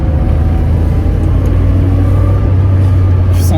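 A classic Porsche 911 on a racing lap in a video game, with no power steering or traction control, its engine droning loudly and steadily at close range throughout, a low constant rumble with no pauses.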